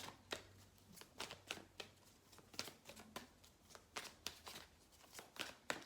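Tarot cards are shuffled for a reading, a quick run of crisp riffling snaps and taps repeating steadily, close and fairly quiet with no talking.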